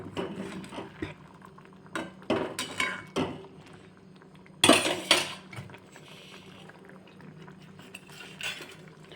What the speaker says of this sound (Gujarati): હવે આપણે બધું મિક્સ કરી દેવાનું છે